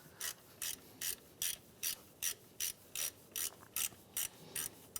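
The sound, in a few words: ratchet removing top bolt of Honda Element alternator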